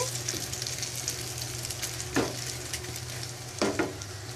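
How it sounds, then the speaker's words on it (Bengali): An egg fries in a pan with a steady soft sizzle, punctuated by two brief scraping stirs of a utensil, close by, with no voices. "এখন হচ্ছে তোমার জন্য দুপুরে ডিম ভাজি করছি"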